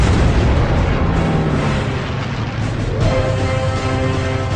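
A loud, sustained roar of heavy aircraft cannon fire from a Skyraider pouring high explosive rounds at a MiG. Rapid booms blend into a continuous rumble throughout, with no talking.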